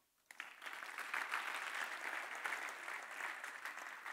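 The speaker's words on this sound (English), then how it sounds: "a big round of applause to the partners of Global Marketer Week" A conference audience at a global marketing week breaks into applause that starts abruptly and holds as a dense, even wash of clapping.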